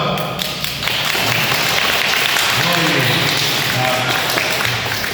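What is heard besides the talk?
applause at baptism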